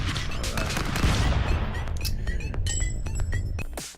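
Gunfire in the video game Stick Fight: The Game, a dense burst of rapid shots and clinks that thins into scattered single pops near the end, loud and close.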